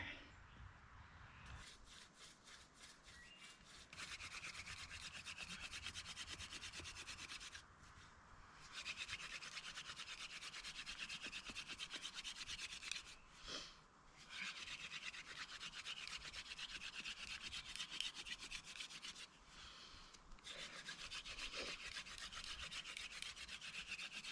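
A wooden spindle is rubbed in a fire-starting friction drill during an outdoor survival demonstration. Faint, rapid, rhythmic rasping strokes continue for long runs, broken by a few short pauses.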